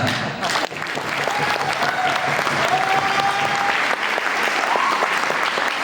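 Audience applause in a hall, a steady wash of clapping throughout, fairly loud and close, with a short dip near the start and faint voices under it.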